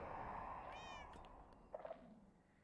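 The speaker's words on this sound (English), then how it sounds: "I hear them meowing" Cats in Minecraft give a short clear meow followed by a few soft chirping mews, faint and close, over a low background hiss, with no talking.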